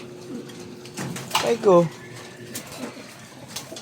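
A pigeon gives a short descending coo, rising briefly above low background noise, with a person's voice speaking in the room at a shop where pigeons are kept.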